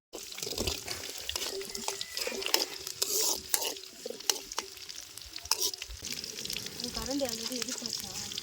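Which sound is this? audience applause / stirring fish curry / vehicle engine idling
stirring fish curry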